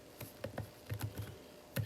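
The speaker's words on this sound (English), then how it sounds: "So I'm going to type in the word addition," A word typed on a computer keyboard: a short run of about ten soft, close key clicks at uneven intervals, quiet with no speech.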